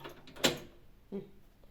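A small child fiddles with a home door, making a sharp rattling knock followed about a second later by a softer creaking thud, close and in a quiet room.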